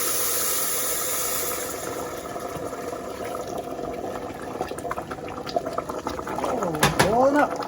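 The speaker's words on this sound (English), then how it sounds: "Oh, boiling up." Cooking liquid comes to a rolling boil in a pot of browned rice for hoppin' John, a steady bubbling hiss that grows into louder, sharper spitting and popping toward the end.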